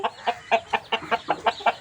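A rooster clucks in a quick, evenly spaced series of about eight short calls, close and fairly loud.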